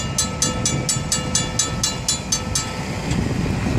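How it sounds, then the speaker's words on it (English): An FEC freight train rolls past on the main line, its cars clicking over rail joints in a steady rhythmic clatter under a low rumble and wind noise. "Check out the train as it goes down the FEC main line."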